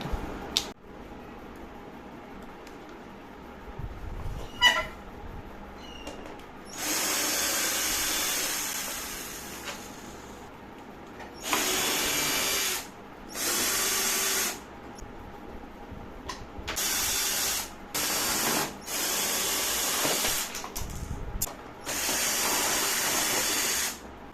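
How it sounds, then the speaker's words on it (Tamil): Cordless drill spinning out rusty screws, heard as several separate bursts of buzzing whir, each lasting a second or two with short quiet gaps between. The bursts are fairly close and there is no talk over them. "இப்போ வந்து நம்ம இந்த ஸ்க்ரூஸ் எல்லாமே இந்த ஒரு மிஷின் மூலமாக ஈஸியாக கழட்ட முடியுது"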